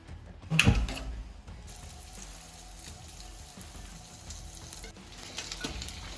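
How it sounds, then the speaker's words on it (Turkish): Steady, soft sizzling of anchovy pilaf frying in a pan, with a louder clatter near the start, then a continuous crackle throughout. "Ocağımıza pişmeye, kızartmaya alalım."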